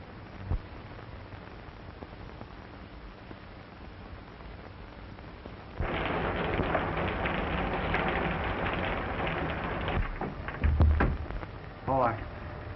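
Steady rain falls outdoors in a 1931 crime film set in Chinatown, a broadband hiss heard at first and then swelling louder and denser midway, with a few sharp knocks near the end.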